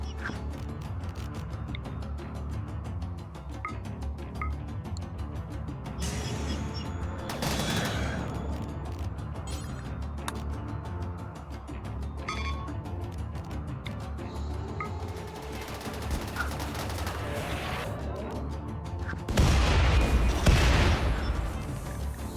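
An artillery salvo called down in RimWorld, a string of distant booms and crackling blasts that builds over several seconds and ends in a louder, heavier burst of impacts.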